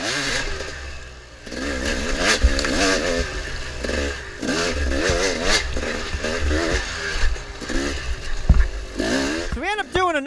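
A dirt bike in a harescramble race at Thunder Ridge, its engine buzzing and revving up and down under throttle, loud and close with pitch sweeps, while someone talks over it.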